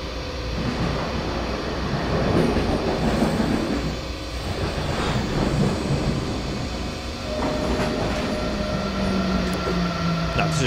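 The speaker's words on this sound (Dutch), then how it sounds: "Nou, kijk eens aan, er komt nog een tegenliggende trein aan." An oncoming train passes on the line toward Konstanz in Train Simulator 2017, a loud rumbling roll with rail clatter and a rising squeal near the end, and no talk over it.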